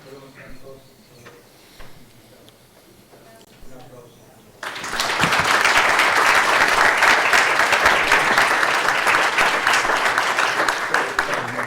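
Lecture audience bursting into sustained, loud applause after a quieter stretch of low room sound, the clapping dense and steady through the rest of the clip.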